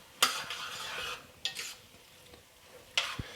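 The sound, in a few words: stirring shrimp cooking in a pan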